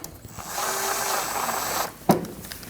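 A ratchet tightens a fastener on the front inner fender liner of a Nissan NV2500 van, a quiet steady clicking whir for almost two seconds, followed by a brief sharp knock.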